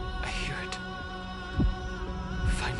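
A deep heartbeat thuds in a video game, two or three heavy low pulses over a sustained droning hum, with no talking.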